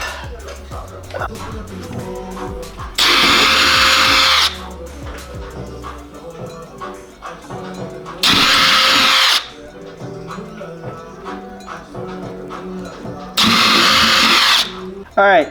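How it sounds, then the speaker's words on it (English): A power drill bores holes for mounting a racing front splitter on a Honda S2000, three loud bursts of a few seconds each, separated by quieter workshop noise and brief voices. "after we got the holes drilled"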